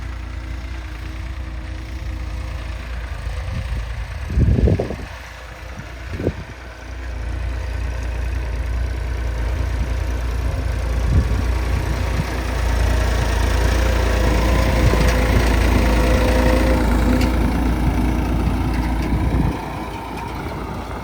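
A New Holland tractor engine idles and rumbles steadily throughout, low and close, with a couple of brief louder bursts near the start.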